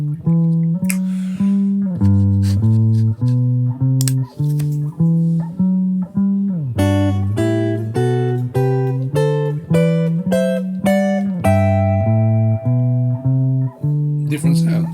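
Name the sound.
guitar double stops using fifth and seventh of each chord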